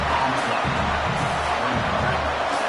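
A stadium crowd cheering in the football video game College Football 27, a loud continuous roar of many voices with a booming low rumble, steady throughout.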